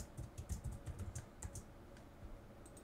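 Keys clatter on a computer keyboard while a Jabber softphone is being set up, a quick irregular burst of close, crisp clicks that thins out into a few scattered taps near the end.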